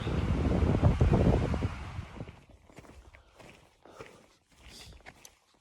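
Wind on the Pacific Crest Trail near San Jacinto roars loudly across the microphone for about two seconds, then drops to quieter gusts with faint crunching steps.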